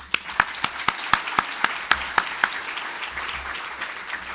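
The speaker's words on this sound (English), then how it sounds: "would you give him a round of applause?" Scattered applause at a civic State of the Cities gathering, a handful of distinct, fairly crisp claps in a quick loose rhythm that thin out and fade after a couple of seconds, heard alone.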